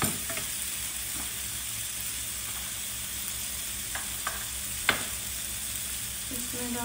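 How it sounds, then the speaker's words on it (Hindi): Onions frying in oil in a pan for mutton masala give a steady, close sizzle, with a few soft stirring scrapes and one sharper clink, and no talking. "अच्छे से मेरे प्याज भून चुकी है, ऑयल छोड़ दिया है"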